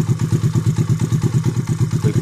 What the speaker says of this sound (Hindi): बिल्कुल स्मूथ इंजन है।